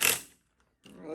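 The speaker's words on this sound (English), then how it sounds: "You can hear the rust inside this, inside the rim." Loose rust rattles and grinds inside the steel wheel rim of a Honda CT70 as it is shaken up close, a loud gritty burst fading out, a brief silence, then a second rustling surge.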